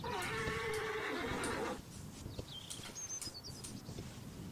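A horse whinnies loudly for about two seconds in the video game Horse Tales: Rescue Emerald Valley, then gives way to quieter ambience with faint bird chirps.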